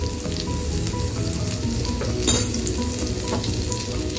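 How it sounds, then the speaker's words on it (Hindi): Butter melting and sizzling in oil in a pan for red sauce pasta, a steady, close crackling fry that holds throughout with one brief louder spatter midway, no voices. "इसे मेल्ट होने देते हैं।"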